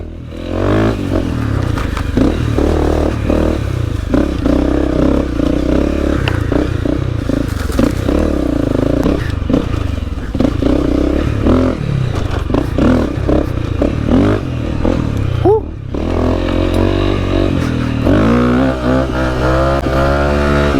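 Honda CRF250L dirt bike ridden over rough ground, its single-cylinder engine droning and revving steadily up close, with clatter and scraping from the terrain throughout and a brief lift in the engine note near the end.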